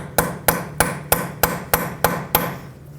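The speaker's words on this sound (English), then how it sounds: "take a punch that fits in there, or any other tool that you might have, and give it a few taps" Seven evenly spaced sharp metallic taps from a punch struck against a Toyota Camry front axle nut to raise its peened ridge, loud and close with no talking.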